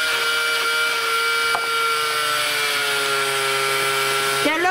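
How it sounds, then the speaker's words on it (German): A cordless electric drill with a nearly flat battery winds a sewing machine bobbin, giving a continuous, close, steady whine that dips slightly in pitch near the end. "Und jetzt habe ich mir den Bohrer hier genommen, diesen Elektrobohrer, und spule damit."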